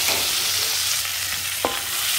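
Shrimp sambal fries in shrimp oil with a continuous loud sizzle and crackle, stirred in the pan, with one brief scrape of the utensil and no voices.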